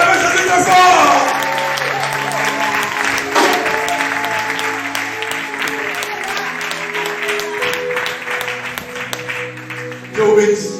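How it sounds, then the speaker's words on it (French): A church congregation at a Pentecost service applauds and cheers loudly for Jesus, sustained clapping and crowd voices filling the room, with a voice speaking over the noise. "On peut acclamer Jésus très fort."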